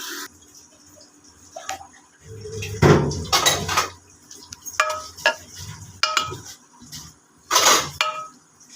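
Cooked vegetables for pav bhaji are mashed in a pan, with irregular metallic clanks and scrapes of a masher against the metal, some louder knocks spaced between quieter stretches, and no talking.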